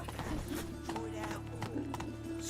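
Horse hooves clip-clopping steadily from Roach, the mare ridden in The Witcher 3: Wild Hunt, with a voice talking over the steps throughout.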